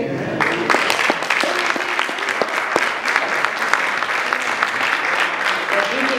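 A church congregation claps for its ministers, a full and steady round of applause from many hands that stays even and sustained from start to finish.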